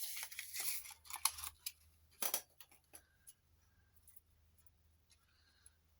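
Scissors snip close up through paper for junk journal tags and cards, a few crisp cuts and rustles early on, then sparse quiet clicks.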